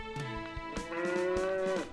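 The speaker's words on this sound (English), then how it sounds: "The cow called for him." A cow on a farm lets out a single long, drawn-out moo that rises then holds steady before cutting off, heard close and clear in a quiet setting.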